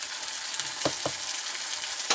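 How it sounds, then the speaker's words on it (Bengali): Ginger garlic paste sizzles in hot oil for a chicken gravy, a steady close frying hiss with two brief spatters near the start and another near the end. "এবার ওই তেলের মধ্যে দিয়ে দেবো আদা ও রসুন বাটা 2 চামচ দিয়ে দেবো।"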